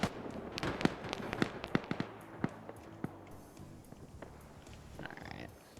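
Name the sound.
gunfire in a military video game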